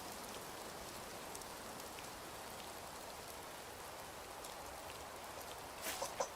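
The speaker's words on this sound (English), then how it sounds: "Oh, please say that the rain is stopping." Steady rain in the video game Rising World, a soft even patter with scattered droplet ticks, faint and continuous, with a couple of brief louder taps at the end.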